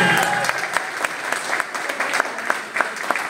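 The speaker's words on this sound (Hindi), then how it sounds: "एक बार जोरदार तालियां।" A seminar crowd gives loud, sustained applause for a direct-selling leader, with dense clapping spread evenly through the room and a few sharper claps standing out near the front.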